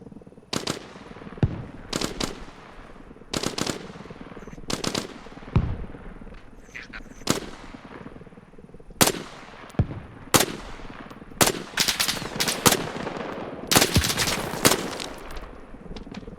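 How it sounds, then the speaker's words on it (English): Machine gun fire in the military shooter game ARMA Reforger comes in repeated short bursts and single sharp shots at varying distances across a milsim battle, with no talking. "MG fire, can't see where it's coming from."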